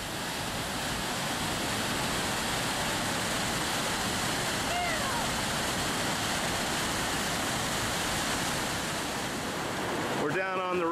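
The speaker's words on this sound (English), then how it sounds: "Christine's Falls." Christine Falls pours in a steady, loud roar of rushing water heard up close from the edge on a mountain hike, with no break in the hiss from start to finish.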